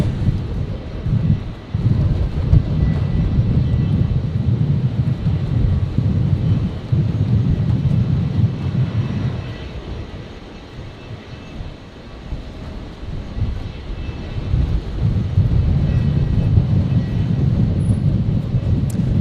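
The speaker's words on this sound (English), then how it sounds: "So the Fokker 100 here on screen, operating a Virgin flight today, just arrived from Rockhampton over on 19er right." A Virgin Fokker 100 jet arriving on runway 19 Right at Brisbane from Rockhampton, giving a sustained low rumbling roar that fades briefly midway, then builds again.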